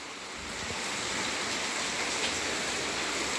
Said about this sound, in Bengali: দারুণ বৃষ্টি সকালবেলায়, অনেক বৃষ্টি হচ্ছে গো